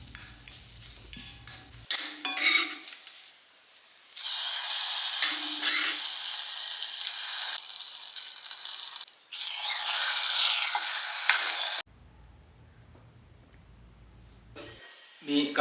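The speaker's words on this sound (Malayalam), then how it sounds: "ഈ തേങ്ങ ചിരകിയതും നല്ലപോലെ ഇനി മൂപ്പിച്ചിട്ട് എടുക്കാം" Grated coconut is stirred and roasted in a hot pan with curry leaves, giving a steady loud sizzle and scraping that runs for several seconds at a time, then cuts off, with quiet speech before and after.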